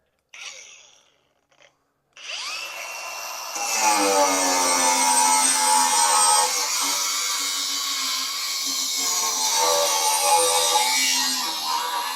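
A DCA 20V cordless angle grinder with a 4-1/2-inch cutoff wheel cuts through metal stock. After a short spin-up it gives a loud, sustained whining screech close by.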